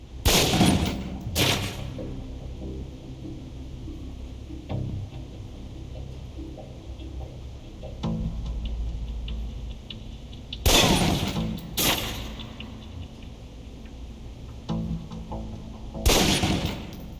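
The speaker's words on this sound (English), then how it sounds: "Equip the pistol, then aim down range and take some shots at the target." Pistol shots fired at a target in the video game Alpha Protocol: five sharp, loud cracks, two in quick succession, then a long pause, another close pair, and a final shot, with quiet room tone between them.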